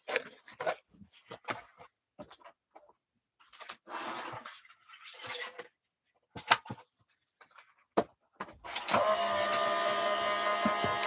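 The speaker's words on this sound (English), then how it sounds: "grab hold of it, put that through my machine again" A sheet of card runs through a die-cutting machine, with intermittent clunks and handling noises leading into a sustained mechanical grinding hum as the plates pass through near the end.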